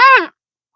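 A human voice imitates a parrot with a single short, harsh, nasal squawk that drops in pitch, loud and close, followed by silence.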